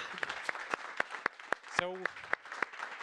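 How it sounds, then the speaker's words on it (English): Sparse, distinct hand claps from a small conference audience applauding the logo designer, with a short spoken word breaking in partway through. "can I have please a round of applause for Mai for this amazing logo"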